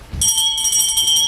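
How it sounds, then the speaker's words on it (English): A bell sound effect in a school stage performance of Macbeth rings out loud and steady, a bright sustained metallic tone that holds for over a second. "Just then a bell tolled from the keep."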